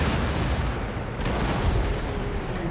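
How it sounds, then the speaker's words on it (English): Cannons fire shrapnel shot in a siege battle in Empire: Total War, a dense, continuous rumble of booming artillery blasts that overlap into a loud, sustained barrage. "Fire quick line, all of my guns fire shrapnel shot."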